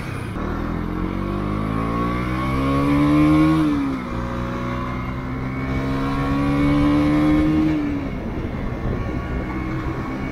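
A new KTM Duke 200 motorcycle pulls away, its engine note climbing through the gears in two rising revs that drop back between shifts, loud and close, no voices.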